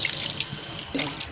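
Tap water runs and splashes while a freshly plucked desi chicken is washed, a steady close gush with brief changes in splashing as the bird is moved under the stream.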